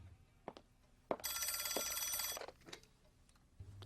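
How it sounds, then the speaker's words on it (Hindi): A telephone bell rings once in a bright, sustained burst lasting about a second, with faint knocks and shuffling noises before and after it in a quiet room. "फोन बज रहा है।"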